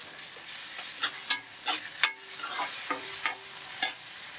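Onions and masala frying and being stirred in a pan for an Andhra-style chicken curry, a steady sizzle broken by repeated scraping stirs, close and fairly quiet with no talking.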